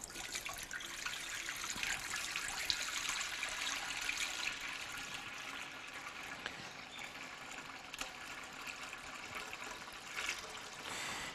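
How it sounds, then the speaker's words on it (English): Marinade is poured from a gallon container into a bin of meat for smoke meat, giving a steady, continuous splashing gush of liquid at close range for several seconds with no talk. "So I'll just pour it in."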